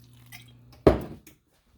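A little water is poured into a pan of thinly sliced Brussels sprouts, making one short, close splash and sizzle that fades within a split second.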